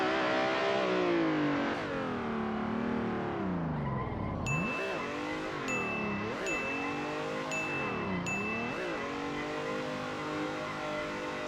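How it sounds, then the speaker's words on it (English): A drifting race car in the Assetto Corsa driving game, its engine roaring loud and close as the throttle is blipped and clutch-kicked, revs swooping up and down through repeated transitions while the tyres squeal sideways. "When you back off the throttle mid-drift, the car will rapidly straighten, which gives you a lot of sideways momentum."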